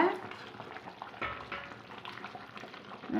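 Soft bubbling and gentle sizzling of a thick fish curry simmering in a pot, steady and close, with faint background murmurs.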